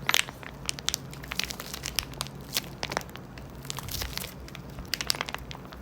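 A crunchy cheese snack is squeezed and crushed inside its plastic wrapper at close range, giving a run of irregular crackling, crinkling snaps, some sharp, others softer, with no one speaking.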